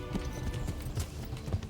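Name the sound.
horse hooves galloping in the video game Kingdom Come Deliverance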